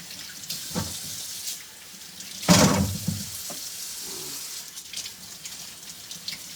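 Running tap water splashes over a freshly picked papaya being washed outdoors, a steady faint stream with a louder, fuller gush near the middle, no talk.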